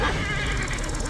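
A horse in the game Assassin's Creed Origins lets out a loud, close whinny, a shaky rising-and-falling neigh that fills the brief moment, with no talk over it.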